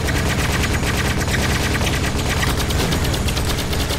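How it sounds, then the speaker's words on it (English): Constant rapid gunfire in the mech combat game War Tech Fighters, a dense unbroken stream of automatic shots that stays loud and steady throughout, with no voices. "Stop shooting at me."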